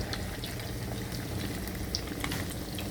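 Thai fish cakes sizzling in hot oil in a frying pan, a steady loud crackle and bubbling with small pops throughout, close up and with no talking.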